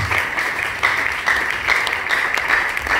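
A church congregation claps in celebration, steady rhythmic applause at close range with no talking over it.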